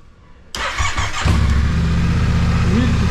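A Yamaha Tracer 7 motorcycle with 10,700 km on it starts up and then idles steadily and loudly nearby, its engine note settling into a constant warm-up rumble inside a garage.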